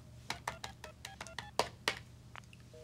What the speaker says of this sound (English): Busy. I just dialed his number.